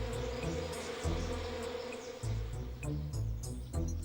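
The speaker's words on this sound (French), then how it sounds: "il y avait des guêpes qui m'attaquaient" Wasps swarming and buzzing in the video game Dog's Life, a steady, dense drone held close and loud over a low hum, with brief clicks and thumps scattered through it.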